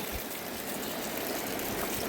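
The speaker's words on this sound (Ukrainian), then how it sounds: "це я виливаю воду з пляшки" Water poured out of a bottle outdoors near an iron-rich spring in a Ukrainian village, a steady close trickling splash running continuously without pause and with no talk.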